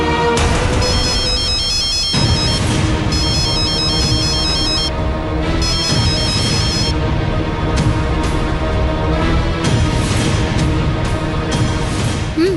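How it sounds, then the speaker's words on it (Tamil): A phone call ringing: a loud electronic ringtone melody plays continuously, repeating its tonal phrase over and over with no voices. "ரிங் போயிட்டு இருக்கு."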